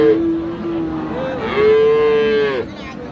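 Cross and Friesian bull calves low at a rural cattle market (haat) in Raniganj. Two long, loud, close moos rise and fall over a soft background of crowd murmur.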